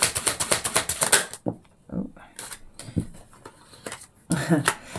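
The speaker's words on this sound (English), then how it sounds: "Let's get some cards of advice for Taurus, please." Tarot cards being shuffled and drawn, rapid riffling flutters at the start and end with soft card slaps between, while a voice speaks underneath.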